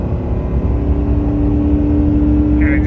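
A first-generation Ford Raptor pickup truck cruising on a road in Mexico gives a steady, close, loud engine drone mixed with road and wind noise, with no voices.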